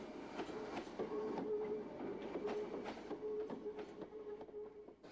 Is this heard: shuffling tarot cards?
no